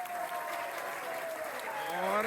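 Crowd noise at a WrestleFest Porto wrestling show, a steady wash of applause and cheering from a packed audience, with rising whistle-like tones near the end.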